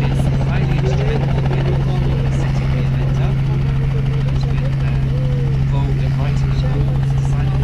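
Helicopters at the Aero Expo UK 2017 air show, a steady loud rotor thrum and turbine whine filling the whole stretch, with people talking faintly underneath.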